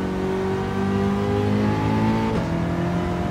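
A Nissan Silvia S13 engine revs under hard throttle, a loud sustained drone that climbs steadily in pitch, briefly shifts and then keeps pulling, with no voices over it.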